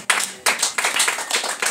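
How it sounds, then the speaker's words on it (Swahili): A church congregation applauds after a testimony with a short, close burst of brisk hand clapping, many hands overlapping in quick uneven bursts. "Mpigie makofi"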